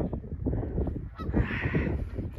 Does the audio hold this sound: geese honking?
yes